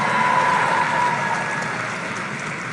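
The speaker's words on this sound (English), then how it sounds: "Come on, give yourselves a round of applause." A large crowd at a motivational speaking event gives a dense, roaring round of applause that holds steady and then gradually fades.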